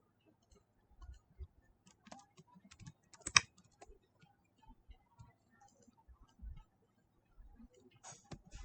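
Scattered keystrokes on a computer keyboard come in short irregular bursts with pauses between them, close and quiet, as code is typed for an Angular app.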